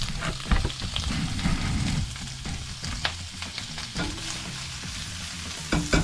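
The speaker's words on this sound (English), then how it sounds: "just get them in the frying pan. Oh, listen to that sizzle." Breakfast meat sizzles in a frying pan for a keto meal, a loud, close crackling fry with scattered spatula scrapes and pops throughout, no speech.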